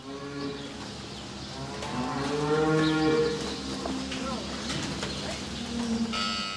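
Dairy cows in a new cow barn moo repeatedly, several long, drawn-out lows overlapping at close to moderate distance over steady barn background noise, with a voice speaking over part of it.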